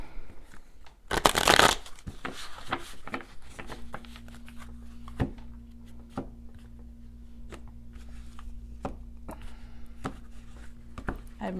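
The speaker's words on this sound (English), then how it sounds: "let me go ahead and shuffle" Tarot cards are shuffled up close: a loud riffling burst, then a run of soft, regular card taps and slides continuing alone in a quiet room.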